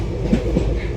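A train runs on rails in a brief, steady rumble with faint rhythmic clatter, heard close and alone.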